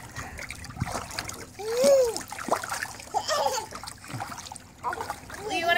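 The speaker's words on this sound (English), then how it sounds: "show Daddy how you can splash" A 16-month-old toddler splashes water in a baby pool with repeated close slaps and splatters. One big splash stands out in the middle, and a voice and adult talk can be heard among the splashes.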